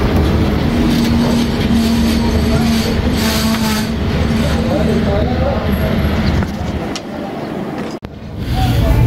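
The Jaffar Express of Pakistan Railways rolls into Kolpur railway station, a loud continuous rumble of wheels and railcars with squealing and clacking on the rails, while people talk throughout.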